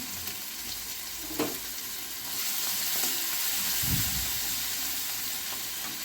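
Crushed ginger and garlic frying in a pan over low heat for potato and pea samosa filling, a steady close sizzle with a couple of soft stirring scrapes, no talk.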